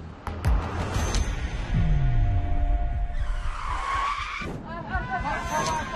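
A bus skids in a crash in an Indonesian drama, with a loud tire screech and a heavy rumble of impact noise, followed by a dramatic swell and some vocal sounds over it.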